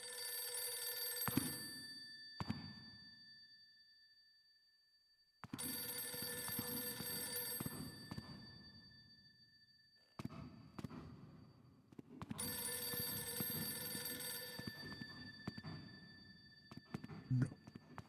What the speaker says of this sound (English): There's a phone ringing.